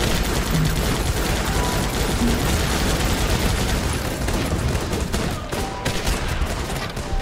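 Dense, continuous gunfire from the video game Guns Up!, with overlapping rapid shots and machine-gun bursts that keep up a steady barrage throughout.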